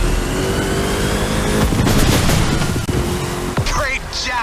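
A car in The Crew Motorfest fires up and revs, its engine roaring loud and close with rising pitch and a brief tire squeal, while a voice speaks partway through.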